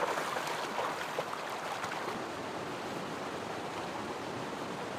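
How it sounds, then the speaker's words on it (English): Heavy rain pours steadily over a tent in a forest during a thunderstorm. The hiss is a dense, even wash of sound, fairly soft and unbroken, with no distinct thunder claps. "Heavy rain pours over the tent while powerful thunder echoes through the forest."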